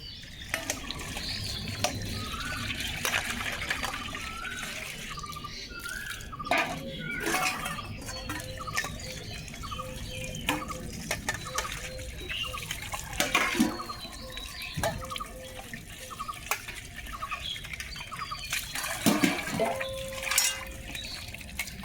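Dishes and pots being washed under running water at an outdoor tap after overnight rain, with steady splashing, clinks and scrapes of utensils throughout, and occasional distant voices.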